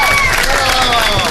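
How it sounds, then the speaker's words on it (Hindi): Studio audience applause on a live Iftar transmission hosted by two hosts, a dense steady wash of clapping with crowd noise and a host's voice running over it for a brief moment. "तालियां बजा दीजिए।"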